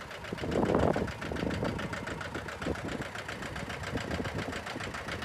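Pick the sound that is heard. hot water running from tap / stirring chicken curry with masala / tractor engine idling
tractor engine idling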